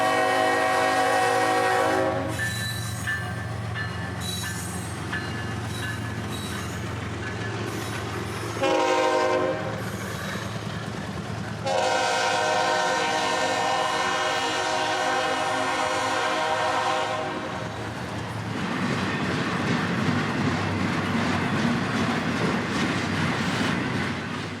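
A Florida East Coast Railway freight train led by GE locomotives passes close by, sounding several long loud horn blasts over the rolling rumble and clatter of wheels on rail.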